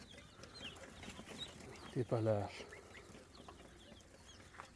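Pheasant chicks on a pheasant farm in Fergana, Uzbekistan, give scattered faint chirps, with one louder burst of stacked calls partway through, under a quiet voice.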